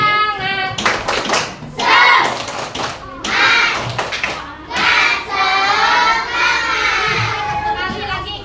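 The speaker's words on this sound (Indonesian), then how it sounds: "Tepuk semangatin dulu supaya semangat belajarnya." Third-grade children in an elementary classroom perform a rhythmic spirit clap, sharp bursts of hand claps alternating with loud chanted children's voices in a patterned call-and-response.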